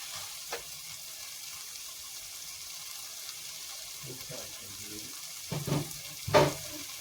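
Chilli powder and coriander powder are sautéed in a pan for a sweet potato fry, giving a low, faint, steady sizzle with a few spatula clinks and stirring knocks toward the end.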